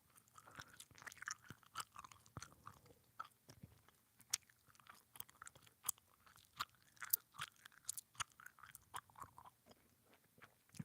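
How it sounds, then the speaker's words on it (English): Fast, gratuitous chewing mouth sounds recorded close for ASMR, a steady run of quick wet crunchy bites and smacks with no talking. "a little short section of gratuitous fast chewing"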